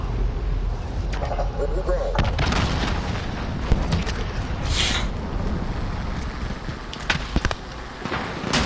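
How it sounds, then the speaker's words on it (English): Heavy booms and blasts of cruise missile strikes in a Call of Duty match rumble through a dense, continuous wall of battle noise, with a few sharper impacts near the end and a voice talking over the din. "Enemy cruise missile."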